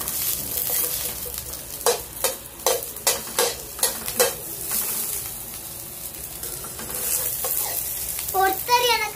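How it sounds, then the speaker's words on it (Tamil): Okra with mustard seeds, lentils and cumin sautés in hot oil, a continuous close sizzle broken by a series of rhythmic stirring scrapes, with a brief murmur near the end. "எண்ணெய் ஊத்திக்கிட்டு வெண்டைக்காய் போட்டு கடுகு பருப்பு புளித்தம்பருப்பு அப்புறமா புளித்தம்பருப்பு ஜீரகம் போட்டு நல்லா வதக்கலாம்"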